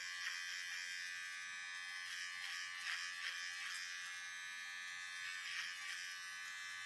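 An electric razor shaves a beard with a steady, close buzz that wavers slightly as it moves through the hair. No voices are heard.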